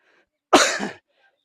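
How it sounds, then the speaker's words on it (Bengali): A man gives a single sharp cough, close and loud, lasting about half a second in an otherwise quiet moment outdoors by a vegetable garden. "আরে আমার কাশতে কাশতে জীবন শেষ।"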